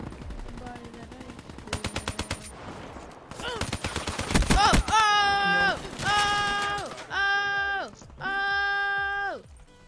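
Gunfire in Call of Duty Black Ops III multiplayer, rapid bursts of automatic shots mixed with tonal, wavering game effects, loud and close, no talking.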